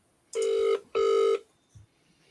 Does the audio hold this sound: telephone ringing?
yes